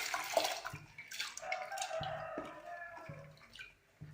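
Water poured into a pot of dal for sambar with drumstick leaves, a close splashing and trickling stream that rises and falls before tapering off into quiet.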